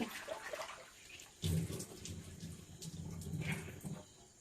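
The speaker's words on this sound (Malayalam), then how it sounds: "ഇച്ചിരി ലോഷൻ ഒഴിച്ചിട്ട് കൂടി കഴുകി" Kitchen cleaning with lotion poured on and water running, a soft continuous splash and trickle of tap water with a few louder gushes, fairly faint and close, no speech.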